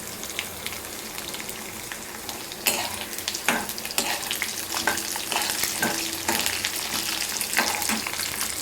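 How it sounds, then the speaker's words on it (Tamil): Chopped ridge gourd sizzles and fries in a pan for chutney, with a steady crackle throughout and louder hissing bursts and scraping as the pieces are stirred, close and alone without talk. "இதெல்லாம் போட்டு நல்லா வதக்கிக்கலாம்."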